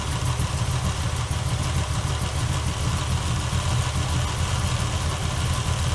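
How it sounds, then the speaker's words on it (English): A car engine idles after its idle mixture screw has been turned in, giving a steady, close, low rumble that runs evenly throughout with no breaks. "So let's see if turning in idle mixture screw might idle it up a little bit."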